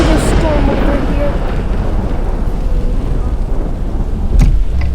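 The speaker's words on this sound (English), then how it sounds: "Severe thunderstorm over here." Heavy rain drums hard during a severe thunderstorm in Rensselaer County, with deep rumbling thunder underneath, a car in the scene, and voices speaking over the storm.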